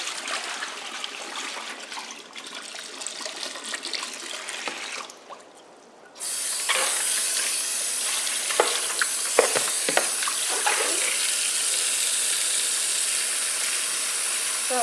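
Vegetables for a Vietnamese pork rib and sweet leaf soup being rinsed in a sink, with steady running water and splashing that swells loud after a brief quieter pause, plus small clunks and trickles throughout.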